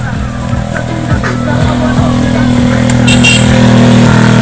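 A motorcycle engine hums steadily from up close, a constant low drone with slight rises in pitch as it rides along, loud and continuous.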